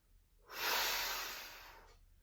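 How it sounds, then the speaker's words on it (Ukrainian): One long, forceful breath pushed out during a floor exercise with knees raised and elbows pressing down. It swells quickly, then fades over about a second and a half, close and breathy, with no talking. "При цьому робимо такий видих."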